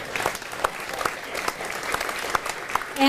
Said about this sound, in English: So I think we should give all of them a huge round of